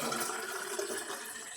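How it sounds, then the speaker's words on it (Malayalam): Water boiled with wood heartwood is poured into a bottle in a Kerala village kitchen, making a steady close-up gush that runs unbroken for the whole moment with no voices. "അങ്ങനെ വെള്ളം കുപ്പിയിലാക്കി വെച്ചു."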